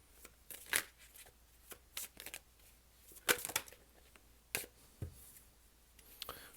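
Tarot cards drawn and handled during a reading, a series of short, crisp snaps and rustles spaced irregularly, close and fairly quiet with no talk over them.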